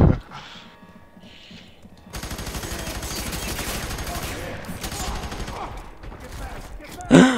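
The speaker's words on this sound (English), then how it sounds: "He has a shotgun!" Shotgun fire in the shooter game FEAR 3 bursts out in a dense, rapid barrage of loud blasts that continues for several seconds after a quieter start, with a voice briefly audible.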